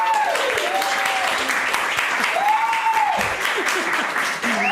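Audience applause at a programming meetup, steady dense clapping filling the room throughout, with whoops and cheering voices rising over it.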